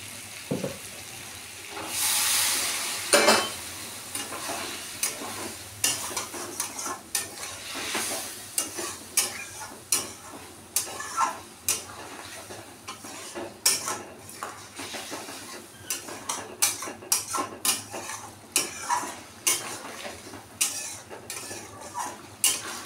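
Potatoes and taro are stirred into a spice mix with a splash of water in a pan. A spatula scrapes in quick, repeated strokes with a soft sizzle and occasional clinks against the metal, and no one speaks.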